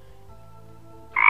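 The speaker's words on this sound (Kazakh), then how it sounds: "Мен ойланайын, куәк, депті бақа." A frog in a children's fairy tale gives a single short, loud croak that breaks in sharply after a quiet low hum.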